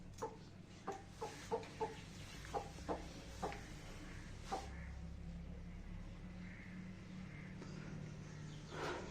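A hen clucks in a cage, giving a series of quiet, evenly spaced clucks that thin out over a steady low background hum.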